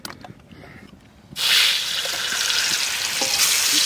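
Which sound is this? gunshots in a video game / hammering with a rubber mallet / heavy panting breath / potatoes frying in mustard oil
potatoes frying in mustard oil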